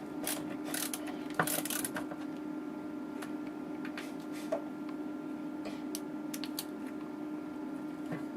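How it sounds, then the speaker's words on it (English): A ratcheting screwdriver clicks during amplifier repair, with sparse quiet ticks and short ratchet bursts heard close against a low steady hum, no speech. "The nice clicky motion of the screwdriver."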